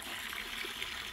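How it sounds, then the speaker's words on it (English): Water drains steadily out of a fish pond during a water change, a constant soft rushing trickle heard at moderate distance and fairly quiet, with no voices. "water's emptying"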